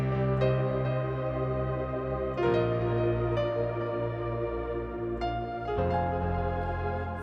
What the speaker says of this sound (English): So you can hear the choir in the background and the piano in the front.